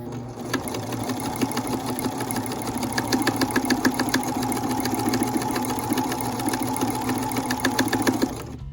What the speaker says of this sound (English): I'll just turn it over and sew along the edge, so it'll be top stitched on the front